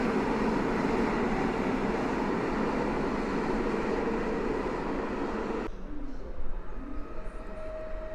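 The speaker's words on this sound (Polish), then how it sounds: "A to pociąg z Pilawy" A Koleje Mazowieckie Elf train from Pilawa rushes past at Warszawa station with loud steady rumbling roar that cuts off abruptly, leaving quieter rail rumble and pigeons cooing nearby.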